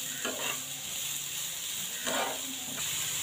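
Finely chopped onions with curry leaves sauté in a pan for a tomato bhaji, giving a steady close sizzle with soft stirring scrapes that swell briefly at a couple of moments.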